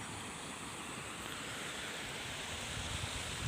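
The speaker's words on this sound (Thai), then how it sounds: "น้ำไหล" Water pours steadily from the drain of a weir in a rice paddy field, a continuous broadband rush that stays even and close for the whole stretch, with no talking over it.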